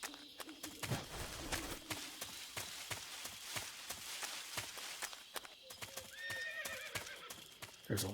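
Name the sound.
horse neighing and hooves in video game Metal Gear Solid 3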